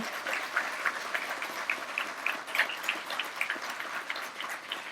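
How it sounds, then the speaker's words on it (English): Faint, steady applause from an audience at the Office of Community Relations Red Jacket Awards ceremony in Prince George's County, a dense patter of many hands heard from a distance and holding evenly throughout. "can you just take a moment and go crazy with applause for all that we are here to celebrate today"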